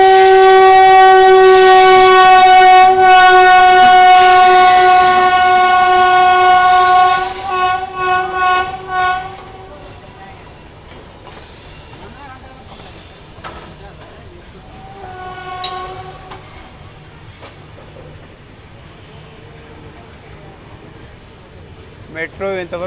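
A Humsafar Express passenger train passing on an Indian railway line, sounding a loud sustained horn for several seconds before fading into a rumble of passing coaches, with brief horn blips later on.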